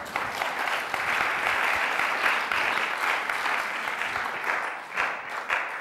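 An audience at a church seminar claps steadily and warmly for several seconds, a dense, fairly close applause that swells slightly and then begins to taper.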